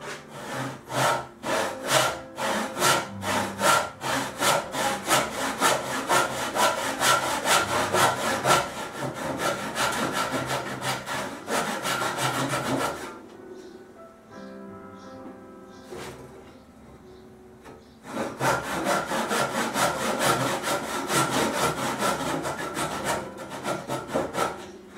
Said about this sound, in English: So I've decided to cut it while it's dry fitted.